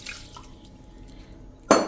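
Water is poured into a badly burnt pressure cooker in a kitchen, giving a short close splash of liquid against metal near the end after quiet dripping.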